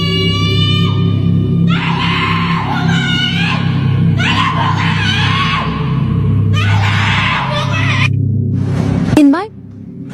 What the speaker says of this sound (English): A few hours later, he woke up to these terrifying screams.